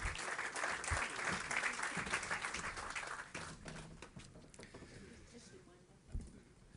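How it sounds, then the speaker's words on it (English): Audience applause at the opening ceremony of the Sir Jack Hayward Bridge, a dense round of clapping that swells then gradually thins out and fades, with a single louder knock near the end. "Let's give him a round of applause as he comes."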